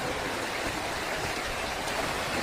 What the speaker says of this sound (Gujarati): હવે આ જોઈ લ્યો પાણી ઘણું ફૂલ હાલે છે.